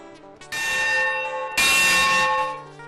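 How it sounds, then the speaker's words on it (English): Brass locomotive bell from Manistee and Northeastern Railroad engine number 18, struck twice indoors, each loud clang ringing out with a long bright decay. "This bell is from the Manistee and Northeastern Railroad engine, number 18."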